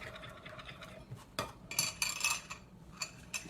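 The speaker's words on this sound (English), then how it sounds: "So let me stir that." A spoon scrapes and clinks against a pan while a warm, gelatinous blueberry mixture is stirred. The sounds are quiet, close and irregular, with several brighter metallic strokes toward the middle.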